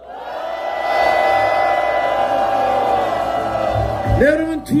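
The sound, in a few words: crowd shouting and cheering at a peace rally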